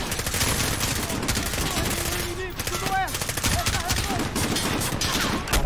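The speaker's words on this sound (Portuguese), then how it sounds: "tá vindo algo dali os tiros lá também" Rapid bursts of automatic gunfire in a Call of Duty: Modern Warfare campaign battle at a base entrance, dense and continuous, with scattered single shots and whizzing sounds mixed in.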